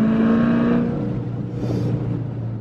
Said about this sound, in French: dès que tu mets ton pied, dès que tu accélères